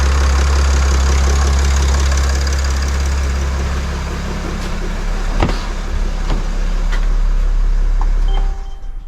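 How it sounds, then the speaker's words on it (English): A 2019 Mercedes Sprinter 3.0 liter engine idles with a steady low rumble and faint clicks for several seconds, then is switched off and falls quiet at the end. "let's go in the vehicle and turn off the engine"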